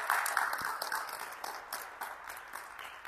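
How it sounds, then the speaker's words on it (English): Modest applause from a seventh grade science fair audience, scattered claps that start fuller and thin out over a few seconds, fairly quiet with faint voices in the background. "So let's give them a round of applause."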